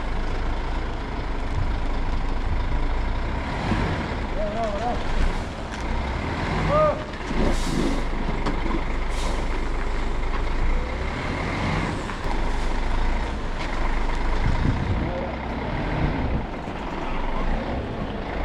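A truck-mounted crane hauls bags of soil toward a backyard, its engine a continuous heavy rumble that runs throughout under people talking nearby.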